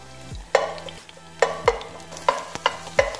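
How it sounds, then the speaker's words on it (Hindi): Crushed garlic frying in a few spoonfuls of oil in a pan, a quiet sizzle broken by several sharp stirring scrapes and clinks of a spoon. "उसके बाद आप एक लहसुन जिसके 4-5 जवे आपने पीस के रखे हुए हैं उनको आप इस ऑयल में डाल"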